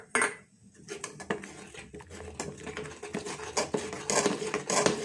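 Powdered milk being stirred into reduced boiled milk in a metal pot, with steady clinks and scrapes of a spoon against the pot, close and moderately loud, continuing alone without speech.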